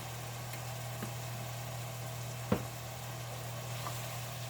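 Garlic and hamburger meat cook in a pan with a soft, steady sizzle over a constant low hum, broken once by a brief clatter midway.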